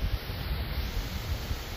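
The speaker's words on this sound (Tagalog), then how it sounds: "Masama ang panahon, kita nyo, ang lakas ng hangin." Steady broadband rushing of strong stormy wind buffeting the microphone, with low rumbling gusts and no voices.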